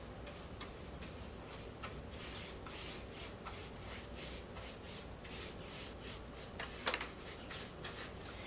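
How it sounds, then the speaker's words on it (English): A brush working wood stain onto a stereo cabinet, with soft, quiet rhythmic rubbing strokes and faint ticks repeating over a low background hiss, close and without talk. "I'm just going to start brushing the stain onto my piece"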